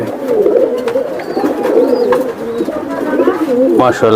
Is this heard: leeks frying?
no